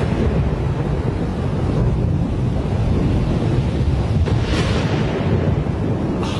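Storm wind in an animated science-fiction film set on Mars: a loud, steady roaring gust with a deep rumbling low end that holds unbroken for the whole stretch, with no voices.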